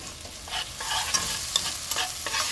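Bitter gourd cooks with tomato puree in a pan for karela sabji, stirred briskly with several close scraping strokes over a soft, constant sizzle.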